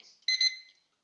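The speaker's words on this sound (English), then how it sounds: "What's that timer, Justin?" A kitchen timer going off during a sourdough pan pizza class: a single short, bright electronic beeping burst, clear and fairly close, with no talk over it.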